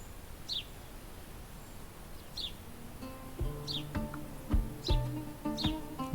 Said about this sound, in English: the sparrow can communicate with its loud chirps